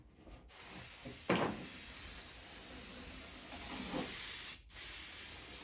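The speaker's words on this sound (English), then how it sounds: "I'm going to airbrush the rail with this Vallejo rust." An airbrush sprays Vallejo rust paint onto model railroad rail, giving a close, steady hiss broken by short bursts where the flow stops and restarts.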